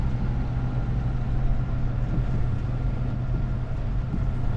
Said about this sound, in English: I think the tractor has some sort of a whine.